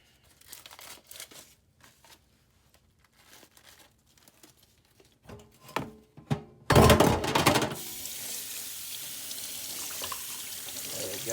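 Tap water running into a sink to rinse a roast for a crock pot, preceded by crinkling of packaging and a few thunks, then a loud steady rush of water that continues to the end.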